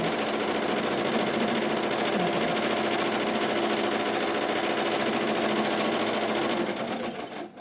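An embroidery machine stitches an appliqué design in a steady, fast, continuous mechanical whir with rapid needle clatter, close and even for several seconds before slowing at the end.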